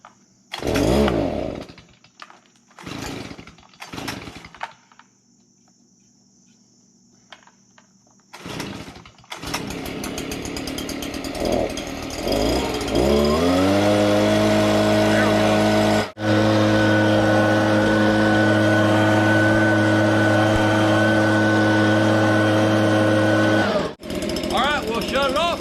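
A Stihl BG56C handheld leaf blower fitted with an aftermarket Chinese carburetor gets several sharp pull-start attempts, then catches and runs loud and steady, its engine rising to a sustained high whine with a brief cut partway through.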